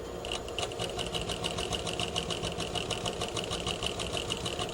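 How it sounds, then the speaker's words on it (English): Sewing machine running steadily while stitching around the outside of a garment pocket pouch, a fast even mechanical whir with rapid needle ticking, close and continuous throughout. "stitch around the outside of the pouch"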